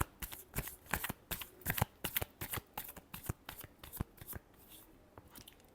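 Tarot cards are shuffled close up in quick, crisp riffling bursts with a rapid, uneven rhythm, and no voice is heard.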